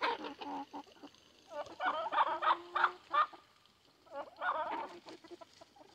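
A buff Orpington rooster clucks and calls in bursts of short, throaty notes, fairly close and moderately loud against a quiet rural backdrop, with brief pauses between phrases.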